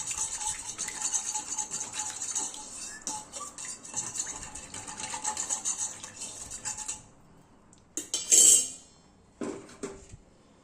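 A utensil scrapes stuck residue off a cooking pot with a steady gritty rasp that stops abruptly, followed by a few sharp metallic clinks.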